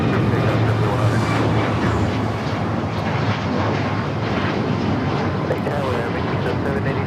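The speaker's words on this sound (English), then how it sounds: "1430 taking off to Puerto Vallarta on the MAX 9" Alaska Airlines Boeing 737 MAX 9 taking off from LAX bound for Puerto Vallarta, a loud continuous jet engine roar with low rumble, steady for the whole stretch.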